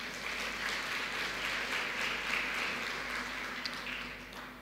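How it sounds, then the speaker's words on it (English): An audience at a keynote session of the tenth-anniversary U.S.-Islamic World Forum gives a steady round of applause, a dense, even wash of clapping that holds for several seconds at moderate distance and fades slightly at the end. "may I begin by asking all of you to join me in a round of applause"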